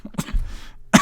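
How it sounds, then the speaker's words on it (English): A few short coughs and throat-clearing bursts, close and fairly quiet, the last one sharper and louder than the rest. "Made me cough, man."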